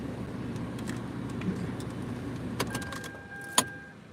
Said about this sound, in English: I'm going to take the keys.